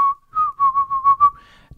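A person whistles a clear, steady tone that pulses in a short series of rising and falling notes, close and alone.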